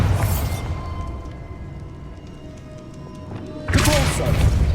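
A Bombarda spell going off in the Hogwarts Legacy video game: a loud, heavy burst that opens the clip, then a quieter stretch with a low steady hum, and a second sharp crashing blast near the end.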